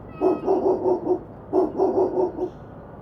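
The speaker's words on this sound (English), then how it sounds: "Then, the barking." Dogs barking as a sound effect in a horror narration, heard as two close bursts of four or five rapid, loud barks each, separated by a short pause, with no speech over them.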